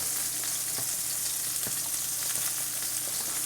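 A steak frying in a pan gives off a steady, close sizzle of dense broadband hiss, with a few faint clicks and taps of stirring cookware. No one speaks.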